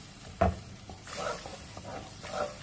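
A spoon is stirred through flour and milk in a pan, giving faint, soft swishing scrapes close by, with one sharp tap of the spoon near the start.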